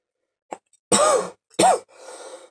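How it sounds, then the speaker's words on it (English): A person gives two sharp, close coughs with a throat-clearing rasp trailing after, in a quiet room during work on a Bachmann pancake motor. "Got a little bit of a cough."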